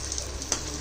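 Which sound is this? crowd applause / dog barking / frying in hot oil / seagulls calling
frying in hot oil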